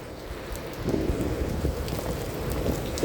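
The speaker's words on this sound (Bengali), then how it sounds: "প্রচন্ড প্রচন্ড বৃষ্টি" Heavy rain pours down on a rainy day, making a dense, steady roar of close downpour that swells slightly after the first second and carries on without letup, with no voices.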